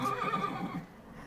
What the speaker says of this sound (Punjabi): ਇਧਰ ਘੋੜੇ ਰੱਖੇ ਨੇ ਜੀ, ਜਿਹਨੂੰ ਨੁਕਰੇ ਕਹੀਦਾ।